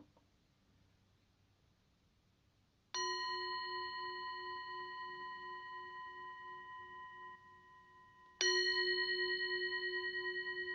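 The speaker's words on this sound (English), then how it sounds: "And ring the bell." A meditation bell is struck twice, each strike ringing out with a clear, sustained metallic tone that slowly decays, the second strike louder than the first, in a quiet room with no talking.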